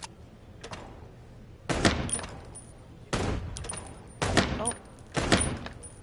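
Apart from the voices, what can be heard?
gunshots at a shooting range in the video game Chicken Police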